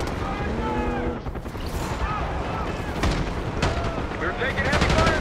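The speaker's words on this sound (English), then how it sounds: "We've got gunfire to the right." Gunfire and explosions in a desert battle in the video game Call of Duty Black Ops 6 form a dense, continuous din of shots and booms, with a voice speaking over the combat.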